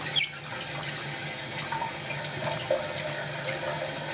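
Water runs steadily into a newly installed toilet tank, a constant close hiss and trickle with a brief clunk near the start and a faint knock later.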